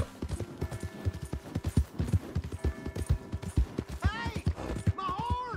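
Steady clip-clop of horse hooves in Red Dead Redemption 2, a brisk regular rhythm close by, with a voice talking over it and a horse whinnying near the end.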